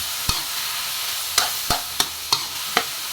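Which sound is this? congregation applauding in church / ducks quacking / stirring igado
stirring igado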